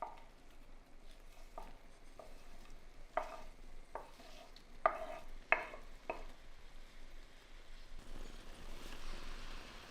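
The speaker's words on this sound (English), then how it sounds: "Stir it all together. It should wilt a little as you stir it." A spoon stirs cooked orzo with sliced sausages and mild rocket in a tomato sauce in a pan, making soft, irregular scraping and sloshing strokes, quiet and close, with no talking.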